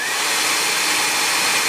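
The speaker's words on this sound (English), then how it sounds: "you're going to want to use the hair dryer to heat up around the arms just to loosen them up a little bit" Hair dryer blowing hot air over the arms of a vinyl Godzilla figure, a loud, steady broadband whoosh with a faint whine, running unbroken and close throughout.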